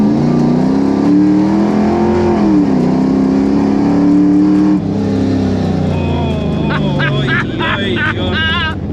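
Big block Chevy Camaro Z28 V8 revving loudly up and holding a deep, steady roar before dropping off, with voices talking over the tail end.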